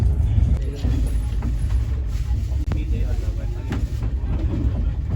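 Sealdah Rajdhani train running on the rails between Kolkata and Delhi, a steady low rumble with faint rhythmic clatter from inside the carriage, continuous throughout with muffled voices in the background.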